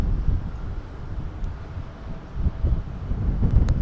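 Gusty wind buffets a drone's microphone high above Harrow & Wealdstone in London, a low rumbling roar that swells and eases without pause and with no other clear sound.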